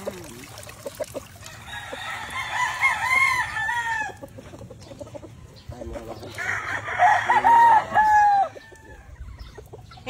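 Chickens on a Filipino farm: a rooster crows twice, loud and near, with clucking hens and a low background hum between the calls.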